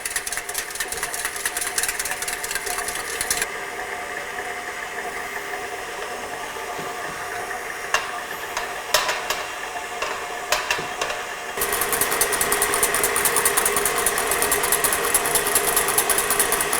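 Electric mixer whipping eggs over a hot water bath for macarons, a steady mechanical whir with rapid ticking pulses, louder at the start and end with a quieter middle stretch marked by a few clicks.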